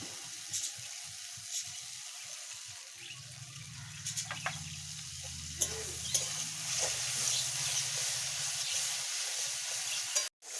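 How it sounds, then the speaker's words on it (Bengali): Quiet, continuous sizzling of spices frying in oil in a pan for duck egg curry, with occasional scraping and clinks of stirring, close up and without voices. "মশলাটা ভালো করে ভেজে নিতে হবে"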